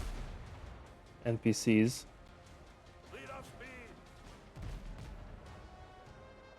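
Ship cannons fire at enemy vessels in the pirate sailing game Windrose: a tight cluster of loud, sharp booms, followed by fainter impact thuds, while someone talks throughout.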